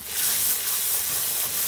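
Oil sizzles and hisses steadily in a hot pan after green chili, turmeric, red chili and ginger-garlic paste are added, a close, continuous frying sound with no voices.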